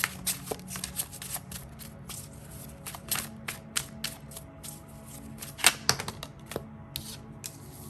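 Tarot cards being shuffled by hand, a run of crisp papery riffles and sharp flicks in uneven bursts, close and fairly loud with no talking.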